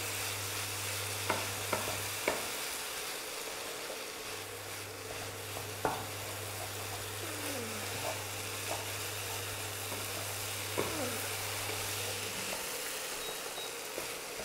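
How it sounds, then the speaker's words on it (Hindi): Cauliflower, potato and peas sabzi is stirred in a pan over low heat, with a soft continuous sizzle, scattered scraping clicks and a steady low hum underneath. "थोड़ा देर के बाद इसको इस तरह से खोल के चलाते रहना है, नहीं चलाने से नीचे सब्जी जल जाता है"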